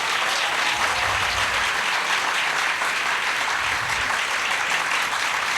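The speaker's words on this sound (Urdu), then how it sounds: "اس بات پہ سب سے اونچی تالی بج رہی ہے" A crowd of students applauding loudly and steadily throughout a speech event in Punjab, a dense, continuous wash of clapping with no voices over it.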